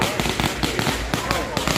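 Firecrackers set off at a Thai temple in Nakhon Pathom crackle in a rapid, loud string of sharp pops across the whole moment, with a voice faintly mixed in.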